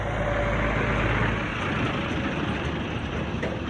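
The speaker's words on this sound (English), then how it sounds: "there's a garbage truck coming in here to pick up a garbage" A garbage truck arriving to pick up a container rumbles with a low heavy engine drone, loudest at first and then easing slightly, close by.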